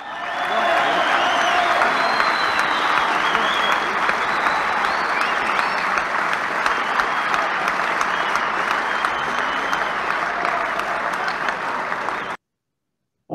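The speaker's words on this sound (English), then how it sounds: "I was keen to be able to say that my talk ended with an enthusiastic round of applause." Enthusiastic applause from an audience at a talk, dense steady clapping held for about twelve seconds before stopping abruptly.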